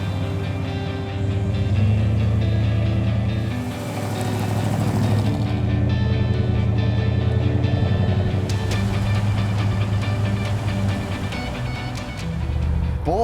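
A 1968 Mercury Park Lane with its 428 V8 drives along, a steady loud low engine drone and road rumble running throughout with slight swells in power and no talking.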